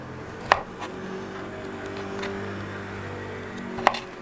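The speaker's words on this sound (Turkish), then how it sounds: "50 gram sucuk doğruyorum" Two sharp knife chops slicing sucuk sausage on a cutting board, a few seconds apart, over a low steady hum in a quiet kitchen.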